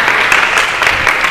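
A room full of people claps together in steady, dense applause that holds at an even, loud level for a moment, with no talking over it.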